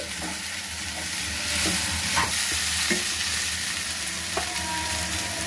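Bitter gourd pieces stir-fried with onion masala in a pan, a steady hiss of frying broken by several sharp scrapes and clinks of a spatula stirring.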